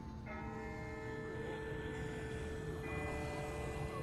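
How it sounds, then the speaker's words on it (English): A distant bell tolls in The Walking Dead video game, faint and far off, its ringing tones overlapping and sustaining under a quiet background hum, with no talking. "That's not the same bell as before. This one's further off."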